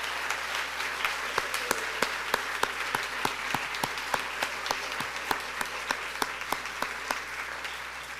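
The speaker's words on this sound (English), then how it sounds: "will everyone join me in a round of applause for Nan Stewart" A convocation audience at a college reunion claps steadily in a sustained round of applause, with individual sharp claps standing out from a dense wash across the room.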